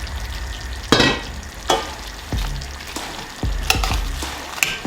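Baby corn broken in half and mushrooms go into a hot pan with boneless chicken, hissing and sizzling steadily while a utensil stirs and scrapes with a few sharp knocks, loud and close with no talking.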